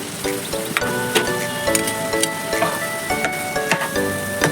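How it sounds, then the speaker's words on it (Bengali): Yogurt sizzling in a hot pan over lowered heat while being stirred for a Bengali cauliflower dish, with steady crackle and frequent sharp clinks of a utensil against the pan, no talk. "দইটা আমরা দিয়ে দেব"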